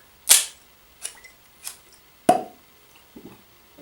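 A rubber cork pulled from a bottle of Copper Fox American single malt whiskey, finished with toasted applewood and oak, gives a sharp close pop, followed by a few softer knocks and clinks of the bottle.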